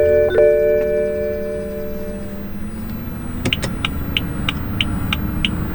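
Inside the cabin of a BMW F30, the hazard lights tick in an even run of crisp relay clicks that begins partway through, following a fading electronic tone and low hum, with no talking.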